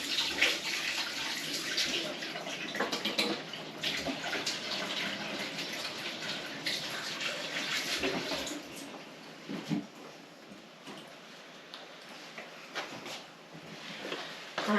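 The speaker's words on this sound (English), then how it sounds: "I'm just going to quickly wash my hands." Water runs steadily from a tap as hands are washed in a kitchen while cooking stuffed pork tenderloin, a continuous close splashing hiss with small clatters.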